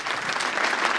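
Applause from an audience at a live interview event, a brief burst of dense, even clapping that stays steady for about a second.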